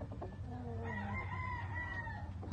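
A rooster crows once, close and clear, a hybrid of a Washington cock and a California hen on a gamefowl farm, the long call rising and holding over low background hum with no talk.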